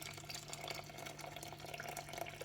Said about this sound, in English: fill the whole thing up with boiling water